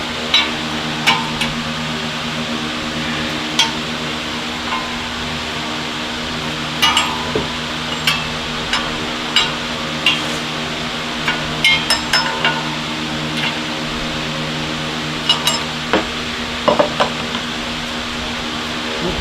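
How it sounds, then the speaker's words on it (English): A wrench works on the fan clutch of a 2005 Dodge Dakota with the 4.7L engine, giving sparse metallic clinks and taps scattered over a steady low hum. The hits are close and sharp, with no talk. "I'm going to use the wrench here to kind of get a better grip on it."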